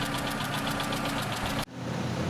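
A car engine with a loud, rapid ticking knock at idle, steady and close for most of the clip, then cutting off abruptly before a quieter engine rumble resumes.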